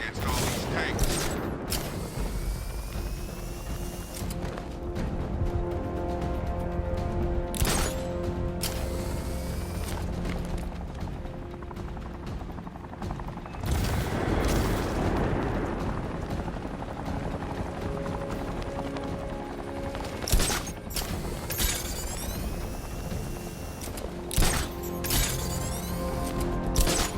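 Tank cannons in Batman: Arkham Knight boom in a steady battle din of heavy mechanical rumble and whirring, with repeated loud blasts and crashes spread through the long stretch.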